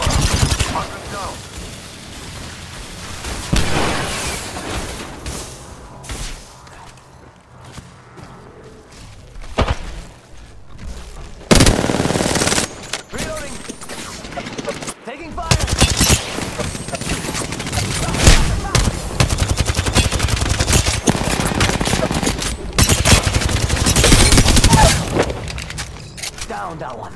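Gunfire in a video game battle: heavy bursts of automatic fire and booming blasts come in loud waves, with quieter lulls between, while voices shout and talk over the fighting.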